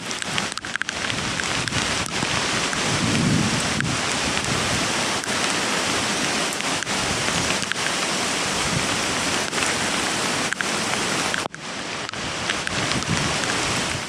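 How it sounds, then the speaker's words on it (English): Heavy rain from Hurricane Ian pours steadily in a dense, continuous hiss, with scattered drips and patters on surfaces, outdoors in Murrells Inlet, South Carolina. No one speaks. "Rain is really picking up, but so far the winds have not been that bad."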